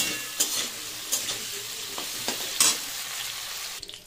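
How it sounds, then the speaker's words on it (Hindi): Potatoes frying in a pan for a spicy Sahjan (drumstick) sabzi, a soft steady sizzle broken by a few sharp clatters of a spoon stirring against the pan, close and without talk. "आलू को भी थोड़ा सा फ्राई कर लेंगे"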